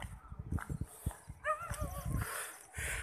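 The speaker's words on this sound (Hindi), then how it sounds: "कुत्ते की आवाज़ आपको आई होगी।" Dog barking outdoors on a windy rural evening, heard as several short, fairly faint yelps and barks spread across a few seconds with rustling and light knocking noises around them.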